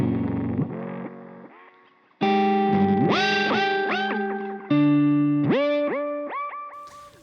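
A guitar played through an effects pedal set to a bouncy preset, with single notes and chords that swell and slide upward in pitch, rising in three loud phrases that each fade away, and no voices.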